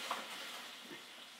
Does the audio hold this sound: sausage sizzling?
yes